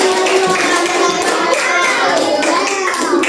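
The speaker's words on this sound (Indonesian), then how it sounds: "beri aplaus untuk" A sixth-grade classroom of children at an Indonesian elementary school breaks into applause, a loud, continuous patter of many small hands clapping together for a few seconds.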